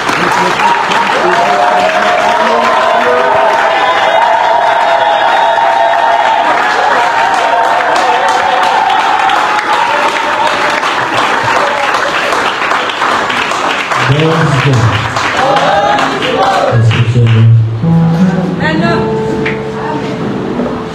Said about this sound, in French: Sous nos acclamations bien-aimées, nous allons recevoir notre Père,